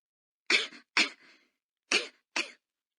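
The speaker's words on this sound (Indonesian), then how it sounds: "Tema hari ini adalah batuk." Four short, light coughs in two pairs, each a brief dry burst, close and clear with silence between them and no talking.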